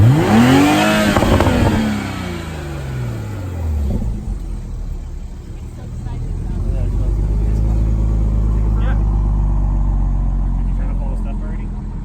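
Stock Toyota A90 Supra engine climbing through the revs toward 6,000 rpm, a loud rising engine note with a sweeping pitch that drops away, then settles into a steady low rumble while people talk over it.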